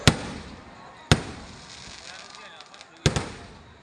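Three sharp blasts from small cannons burst out one after another, loud and close, with about a second or two between each and a faint crackling tail.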